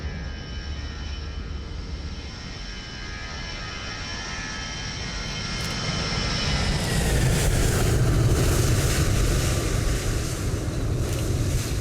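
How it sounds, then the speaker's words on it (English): A Boeing 737 airliner taking off from a runway, its distant jet whine building into a louder, broad engine roar that swells over the second half with no voices. "Took forever to get off the ground, didn't it?"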